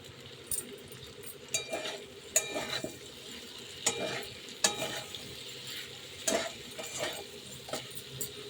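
Food frying in a pan in a home kitchen on a rainy day, a steady low sizzle broken by repeated scraping and clinking of a spatula stirring against the pan, close by with no talking.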